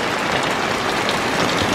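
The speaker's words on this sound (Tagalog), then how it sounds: "Mayroong mga lakas ng ulan dito talaga." Heavy, steady rain pours down across a garden, a dense continuous hiss of drops striking surfaces with no pauses and no voices.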